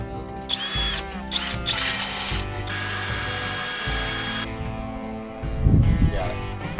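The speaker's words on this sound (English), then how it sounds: "These guys are bolting the motor down." Power tools bolt a Predator V-Twin motor onto a golf cart: a drill and ratchet whir in repeated bursts with clicking mechanisms, close and loud, with a brief pause near the end.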